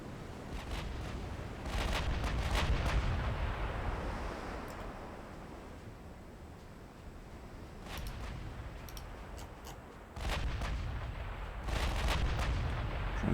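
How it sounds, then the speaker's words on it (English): Sixteen-inch battleship guns fire in a naval warfare video game, with several heavy booming salvos followed by rumbling decay and rolling, surf-like noise between the shots. "16-inch guns opening up"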